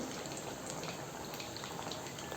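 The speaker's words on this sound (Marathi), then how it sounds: "बट्टी सगळीकडून छान फिरवून फिरवून बट्टी तळून घ्यायची आहे" Batti fry in hot oil in a constant, even sizzle and bubble with no breaks, a close and fairly loud hiss that fills the whole moment.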